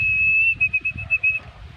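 A person whistles one long, steady, high note outdoors, clear and fairly close, while breezy wind rumbles low underneath.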